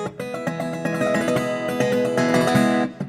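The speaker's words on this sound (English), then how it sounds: "You can do these like karate chop harmonics is what I like to call them." Bell-like harmonic chimes struck percussively on an acoustic guitar, several quick ringing notes layered over each other and sustaining before fading out.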